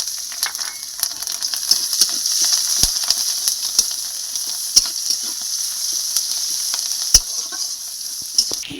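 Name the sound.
onions frying and sizzling in oil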